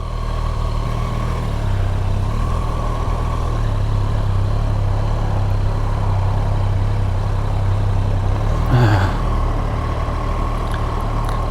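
A Triumph Street Triple RS Moto 2 motorcycle with a 765 engine idles steadily nearby, a low even rumble with a brief rise in revs near the end.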